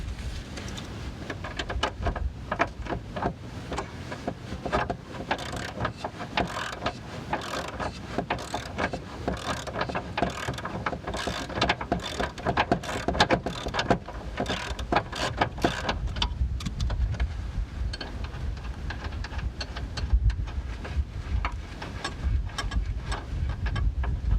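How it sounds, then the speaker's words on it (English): A 17 mm ratchet loosens the nut on a tension rod of a 1994 Nissan 240SX, a rapid string of close metallic clicks in bursts, with clanks of tools and car parts. "get a 17 millimeter ratchet on the front, 17 millimeter wrench on the back"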